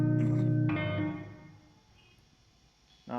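A guitar phrase played through a NUX Verb Core Deluxe plate reverb with the tweak turned down rings out and decays into a darker, softer reverb tail before a new note starts at the end.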